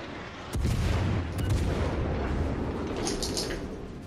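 Naval gunfire booms in World of Warships: Legends, where a heavy shot hits suddenly and then rolls into a sustained, rumbling roar of artillery with further blasts layered on top.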